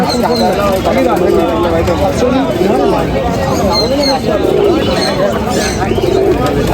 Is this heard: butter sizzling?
no